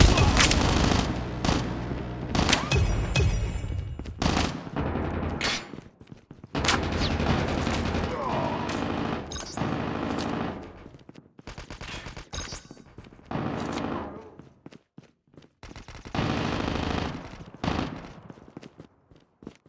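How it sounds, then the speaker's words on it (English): Sustained bursts of automatic fire from a deployed sentry gun in a Call of Duty death match rattle loudly, with short pauses between volleys and a quieter gap before firing resumes near the end. "Sentry gun deployed."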